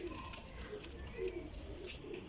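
A Rampuri and Medical crossbreed pigeon coos softly in a few low, faint, repeated bursts against quiet background noise.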